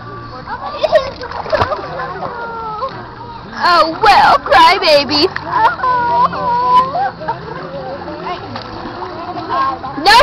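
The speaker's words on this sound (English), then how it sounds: "No splashing me." Children splashing water in a pool at a party, with bursts of splashing in the middle amid children's excited voices and talk throughout.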